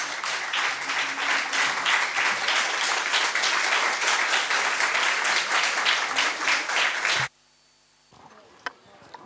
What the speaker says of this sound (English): Everyone, a big round of applause, please.